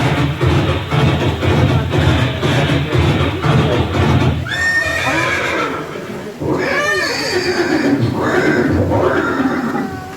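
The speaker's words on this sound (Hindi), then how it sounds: "ये दृश्य महाराणा प्रताप और सुविख्यात स्वामी भक्त घोड़े चेतक के अंतिम मिलन का है" Horse neighing with a long whinny and later snorting calls, loud over a dense music and effects bed, portrayed as Chetak, the loyal warhorse of Maharana Pratap, in a 3D dramatisation of their final meeting after the battle of Haldighati.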